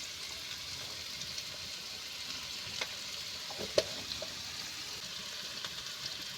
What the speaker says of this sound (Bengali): আমি অল্প করে লবণ দিয়ে দেবো মশলাটা কষানোর জন্য